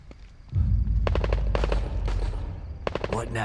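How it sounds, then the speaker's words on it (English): Bursts of rapid automatic gunfire in the video game The Evil Within 2 crackle over a loud low rumble, several volleys in quick succession, close and harsh. "I'm hearing automatic gunfire."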